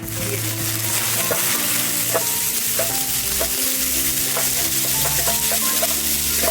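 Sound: cauliflower frying in oil with whole garam masala

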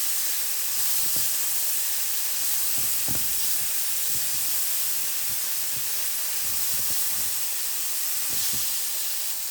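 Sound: mustard and fennel seeds spluttering in butter

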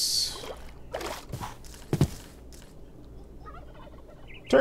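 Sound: turkeys gobbling in modded Minecraft video game

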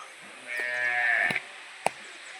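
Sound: buffalo calf mooing

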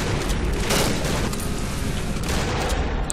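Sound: shotgun gunfire in the video game Cry of Fear

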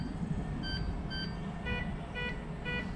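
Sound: RICOMAX metal detector tone changing over a quarter

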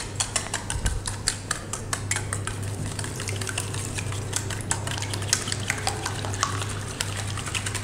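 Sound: whisking a mixture in a bowl

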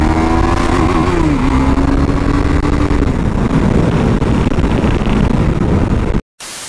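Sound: motorcycle accelerating on the road

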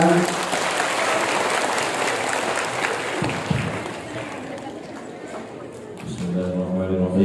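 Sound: congregation applauding

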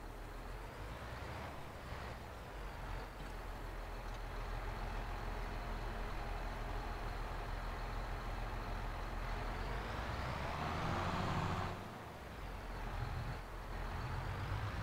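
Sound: tractor engine running on farm field

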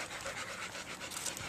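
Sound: dogs panting

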